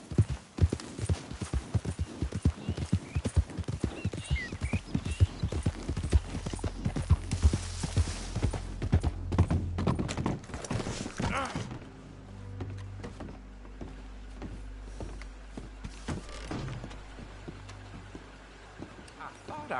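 Horse hooves clip-clop in a steady gallop rhythm in the video game Red Dead Redemption 2, loud and close, then slow and fade to quieter scattered steps under a low ambient bed.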